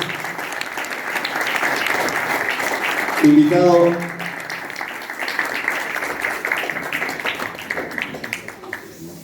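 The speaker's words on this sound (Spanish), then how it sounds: "quiero invitarlos a que nos pongamos de pie y lo aplaudamos para recibir a Oscar Ledesma." Audience applause rises to welcome a war veteran of the Malvinas conflict in Argentina as people stand, a dense, sustained clapping with a brief louder burst in the middle and some crowd noise underneath.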